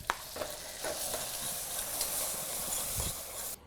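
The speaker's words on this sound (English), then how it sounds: "pour that in there, listen to it sizzle" Thick cream poured into hot caramel sizzles and hisses loudly in a pan, a steady bright frying crackle with a few stirring knocks, continuous for several seconds without any voices.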